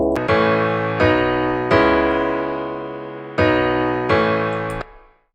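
Piano layer in a future trance track, its filter opened so the chords ring bright and full, five or six loud struck chords each decaying before the next, heard alone without talk.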